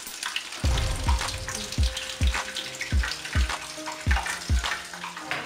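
Garlic fries in oil in a pan with a steady crackling sizzle, broken by a series of regular, close dull thumps from the pan or utensil.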